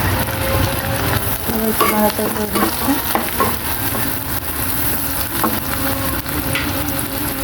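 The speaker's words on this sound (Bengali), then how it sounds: "একটু ভালোভাবে ভেজে নিচ্ছি পেঁয়াজগুলো" Onions and green chillies fry in a pan with a loud, constant sizzle and brisk stirring, as a spatula scrapes and taps against the metal close up, with no talking.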